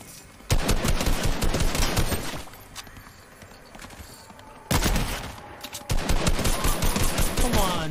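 Rapid bursts of automatic gunfire in the video game Fortnite, loud and dense, starting abruptly, easing off in the middle, then resuming in two sharp volleys toward the end.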